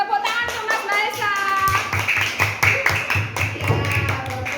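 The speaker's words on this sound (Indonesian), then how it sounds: "Tepuk tangan untuk Mas Mahesa." A class of young primary school pupils claps for a classmate, a burst of quick, uneven hand claps close by, with children's and a teacher's voices speaking over it.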